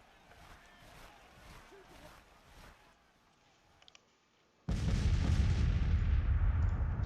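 Artillery and gunfire from the Civil War strategy game Grand Tactician. Faint, distant rumbles and a couple of small cracks come first, then a sudden loud, sustained roar of massed firing fills the rest.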